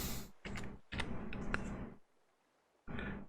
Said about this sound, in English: Looks like you can type up tasks.